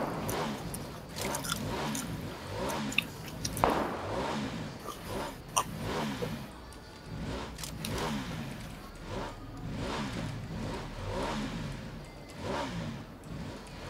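A motorbike engine in the PUBG video game revs in repeated rising and falling surges over about fourteen seconds, fairly close and steady, with faint game noise and little talk.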